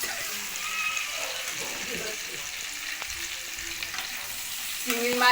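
A curry of catla fish head, potatoes and mixed vegetables cooks in a pan, giving a continuous frying sizzle with wet bubbling and stirring splashes, close by, while people talk over it.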